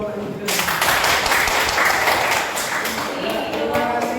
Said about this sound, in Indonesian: Ya mungkin bisa tepuk tangan dulu kalau ada.